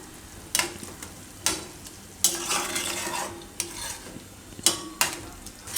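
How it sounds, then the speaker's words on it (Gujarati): Methi matar paneer curry bubbles softly in a pan while a utensil stirs it, giving a few distinct metallic scrapes and knocks spaced a second or so apart over a low simmering sizzle. "થોડીક વાર આને ઉકળવા દેવું."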